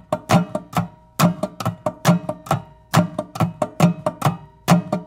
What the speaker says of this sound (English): we hit the low string and then kind of chuck the thin strings down here